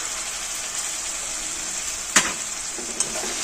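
Tomato sizzling in a pan over onion fried half brown with salt, for an egg korma. A constant hiss of frying carries on evenly, with two brief utensil taps near the end.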